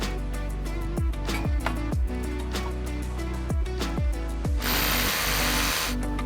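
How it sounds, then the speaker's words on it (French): A power drill bores the first anchor hole into a concrete foundation during a NamiFix installation, its motor whirring steadily with repeated surges and stops, then a harsher grinding burst near the end, loud and close with no talk. "on peut percer le premier trou"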